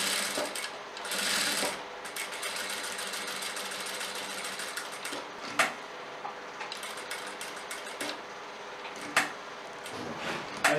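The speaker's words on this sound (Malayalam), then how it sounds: "ഈ അരികിൽ കൂടി തയ്ച്ചു വരേണ്ടതാണ്." A sewing machine runs in a steady, rapid mechanical whir while stitching along the collar edge of a kurti, broken by a few brief clicks and knocks as the fabric is shifted; no voices.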